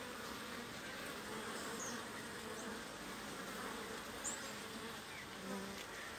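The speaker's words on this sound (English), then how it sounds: "The bees are up and running very fast." Honeybees swarm busily around their hive in February, a steady, dense buzzing drone that fills the whole stretch with no speech, close and constant with slight swells.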